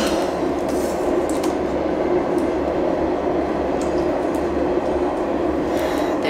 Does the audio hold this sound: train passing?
yes